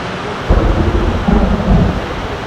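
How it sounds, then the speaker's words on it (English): Thunder rumbles in low, rolling swells on a beach during a tropical storm, with a light patter of rain throughout; no voices are heard. "We've just heard a bit of thunder, and there's definitely a spot of rain around in the air as well"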